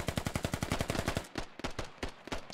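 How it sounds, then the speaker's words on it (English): Rapid, continuous bursts of gunfire in the video game Squad, a steady automatic rattle that breaks into scattered, irregular shots, loud and close. "This is just nonstop gunfire."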